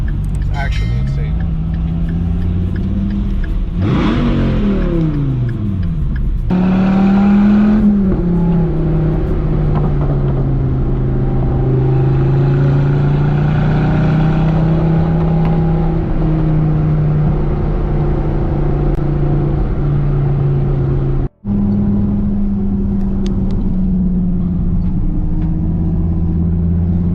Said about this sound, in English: It's insane how similar the Huracan sounds to the Gallardo.